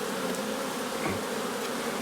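Honeybees buzz around hives in the garrigue as frames are handled, a dense, steady swarm hum filling the air, close and continuous, with no voices.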